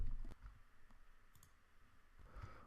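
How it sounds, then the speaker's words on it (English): A single sharp mouse click near the start, faint and close, followed by near silence with a low hum, then a soft rustle at the end. "click Save"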